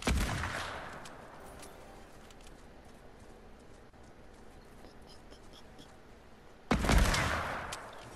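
Gunfire in Fortnite's Pirates of Fortilla mode: a sharp loud shot opens, a quiet stretch follows with faint scattered sounds, and a second loud burst comes near the end.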